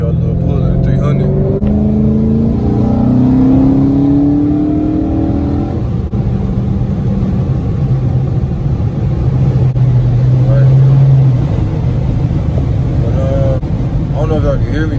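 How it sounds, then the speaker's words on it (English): A Chrysler 300C with a chrome delete pulls hard on the road, its engine note climbing through rising revs in stages, loud and close from inside the car, with someone talking over it. "I'm gonna give y'all a little pull of the 300."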